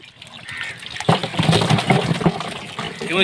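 Small hybrid magur fish tip into a pond, making a continuous wet splashing and gushing of water that swells after the first second and keeps churning close by.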